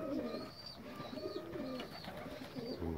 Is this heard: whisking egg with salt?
no